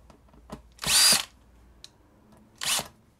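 A power drill whirs in two short close bursts, driving a screw into a motorcycle tyre, each lasting about a third of a second, separated by quiet pauses with a few small clicks and knocks.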